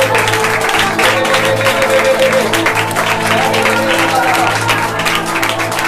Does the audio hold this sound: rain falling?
no